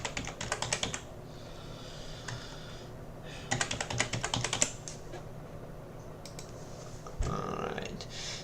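Fingers type a new password on a computer keyboard in short quick bursts of close clicking keystrokes, with quiet pauses between the bursts.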